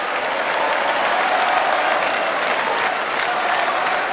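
A football crowd at a Kilmarnock versus Falkirk match cheers and roars continuously in the stand, a dense, loud wash of noise that is steady throughout.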